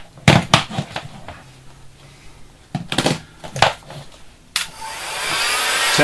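A heat gun blows hot air onto a PS3 circuit board to fix the yellow light of death, first stop-start handling knocks and clatter, then a steady rushing blast of air starting near the end.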